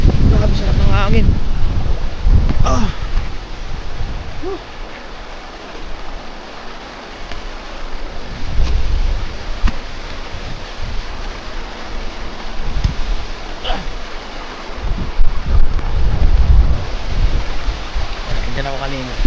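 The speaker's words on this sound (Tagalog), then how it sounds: "Grabe, sarap ng hangin." Wind blowing outdoors by the sea, a steady, loud, gusty rush with a low rumble that swells and eases over the whole stretch, with surf-like wash underneath and a brief voice breaking in now and then.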